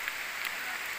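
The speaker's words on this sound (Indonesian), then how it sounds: "juga mulai hujan lagi" Rain falling on a mountain trail during a downhill mountain bike ride, a steady hiss with no talk over it for about a second.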